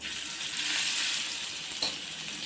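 Slices of kanda gadda (yam) fry in oil on an iron griddle, cooked in fish-fry style, giving a steady, even hiss of sizzling throughout with one brief louder spatter.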